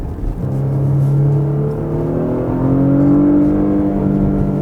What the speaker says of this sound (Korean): 엔진 소리가 다르네. 엔진 소리도 다르고 배기도 좀